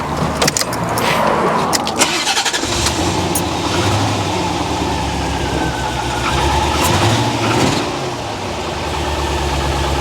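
An abandoned C4 Corvette ZR-1 engine cranks, catches and runs roughly up close, its loud idle stumbling and dipping unevenly before picking back up with a faulty, irregular rhythm.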